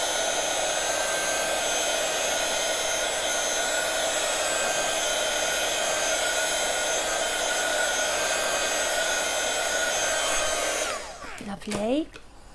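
A heat tool blows a steady, loud whooshing roar for about ten seconds while drying wet stamping ink on a card, then cuts off into clattering handling noises.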